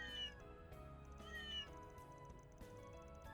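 Cat meowing in the video game Trails Beyond the Horizon, two drawn-out meows over soft background music, fairly faint.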